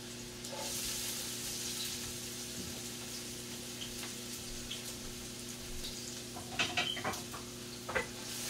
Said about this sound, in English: I'm putting my onion, let it fry off a little bit.